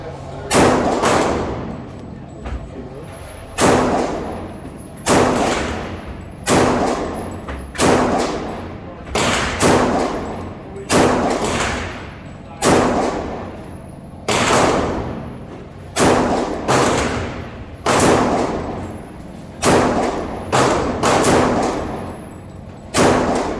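Shots from an FM45 .45 ACP pistol-caliber carbine with a 5-inch barrel, fired at a target in a steady string of about fifteen loud, evenly spaced reports, each with a short echoing decay, no talking between them.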